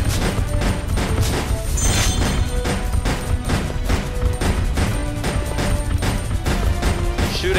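Dense, continuous video-game gunfire from Resident Evil Survivor 2 Code: Veronica in Dungeon Mode, loud rapid shots layered with crashing impacts and booms throughout, no voices.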